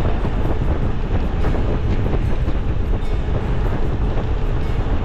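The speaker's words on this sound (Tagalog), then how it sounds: "Lakas ng hangin, no?" Steady, roaring wind on Sampaloc Road in Tagaytay buffets the microphone continuously, a dense low rumble with no pauses, close and loud throughout.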